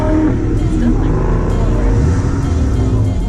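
A car pulls away as the clutch is released in gear, its engine a loud, steady low drone close by.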